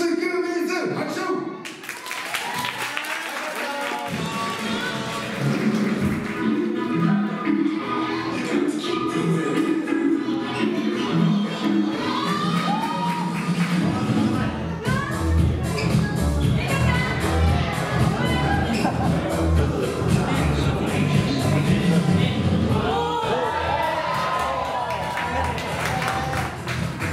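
An audience at a dance event applauds and cheers, a dense wash of clapping and shouts that starts after a brief quieter moment and continues steadily for nearly half a minute.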